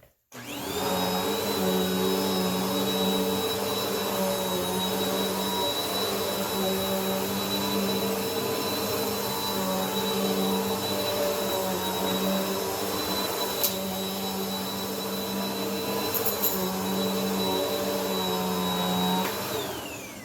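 A Bissell Power Force Helix vacuum cleaner runs continuously with a steady motor hum and a high-pitched whine, close and loud throughout.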